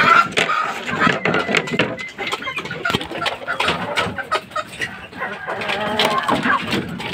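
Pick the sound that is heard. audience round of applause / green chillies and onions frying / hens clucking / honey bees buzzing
hens clucking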